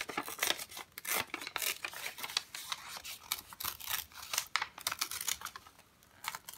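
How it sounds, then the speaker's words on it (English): Paper being torn up by hand for a junk journal in a travelers notebook, a close run of crisp ripping and rustling bursts with short pauses, no voices. "Maybe I'll rip it up and stick it in the back there."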